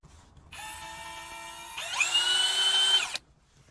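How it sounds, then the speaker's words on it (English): A power drill with a 10mm spade bit whirs on for about a second, then bites into solid timber with a louder, strained whine before stopping abruptly; nearby and alone. "I'm running a massive 10mm spade bit straight through solid timber"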